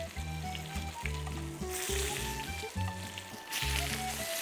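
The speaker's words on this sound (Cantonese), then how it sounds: "一路要將個皮咧煎脆少少。" Salmon steaks fry skin side down in a pan with a close, steady sizzle and hiss, pulsing as the fish is nudged with a spatula and swelling louder in bursts.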